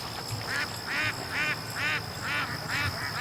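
Several ducks quack in a repeated series of short calls at close range, about six bursts over a few seconds, over a steady high-pitched background hum and outdoor noise.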